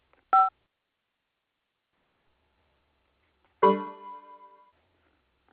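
Telephone keypad tones sound while a phone is switched over during a call: a short isolated beep, a long pause, then a second longer tone that fades out, with no voices.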